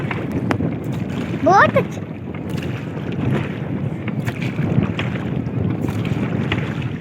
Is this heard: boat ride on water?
yes